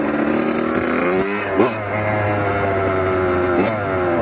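Kawasaki KX 100cc two-stroke dirtbike engine revving steadily and loudly up close, with a couple of brief throttle blips over a sustained buzzing drone.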